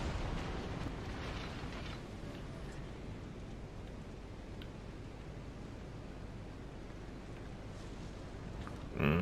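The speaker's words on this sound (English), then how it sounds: "Looks like another volley of HE." A steady rumbling wash of naval high-explosive shell blasts from a volley in World of Warships Legends, broad and sustained throughout, with a sharper, louder burst right at the end.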